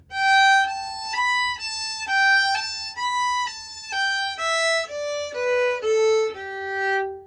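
A solo fiddle plays a flowing melodic phrase of distinct bowed notes, rising and falling in a steady rhythm, clear and close with no talking.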